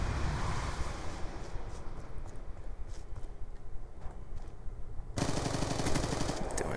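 Assault rifle gunfire in Call of Duty Black Ops 2, rapid automatic bursts rattling close and loud over game noise, with a sharp louder surge near the end.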